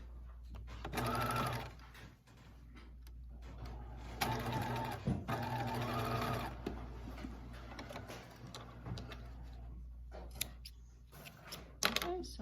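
A sewing machine runs in bursts, stitching elastic close to the edge of headband fabric, its steady mechanical whir stopping and restarting several times at close range, with occasional soft ticks in between.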